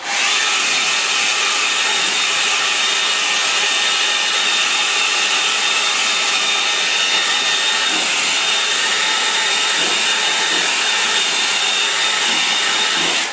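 A hair dryer dries a watercolour painting with a constant loud, close, steady whoosh that holds unchanged throughout, with no talk.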